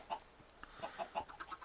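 Chicken clucking in the Agrarian Skies game, a run of short, soft clucks in uneven succession, fairly quiet and heard alone.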